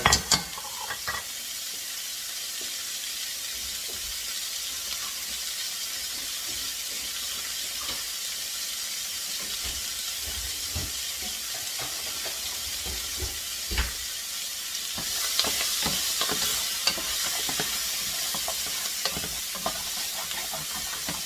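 Vegetables and garlic sautéing in a pot give a steady, close sizzle and fry with occasional stirring scrapes, the hiss growing a little brighter and louder toward the end.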